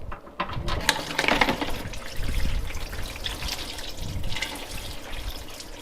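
Engine oil gushing from the oil tank of a Porsche 993 911 during an oil change, a steady loud rushing pour with splashing that runs continuously throughout.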